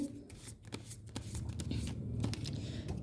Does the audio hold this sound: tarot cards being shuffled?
yes